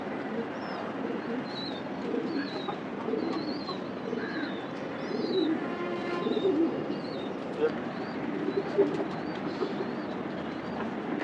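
Pigeons cooing on a rooftop, with soft repeated low coos and some higher chirps, mid-distance and fairly quiet, while people talk over them at times.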